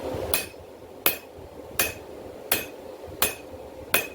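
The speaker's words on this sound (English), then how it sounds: "I'm not swinging it this way, because my hammer will actually bite the metal." A blacksmith's hammer strikes hot metal while forging an herb chopper: six sharp, ringing blows at an even, unhurried pace, close and alone with no talk.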